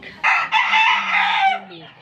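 A Bulik rooster gives one loud, near crow, a single drawn-out call lasting about two seconds.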